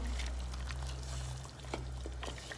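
Tap water pours from a glass into a pot of meat stew, a soft continuous stream with light splashing and a few dribbles near the end, heard close and fairly quiet.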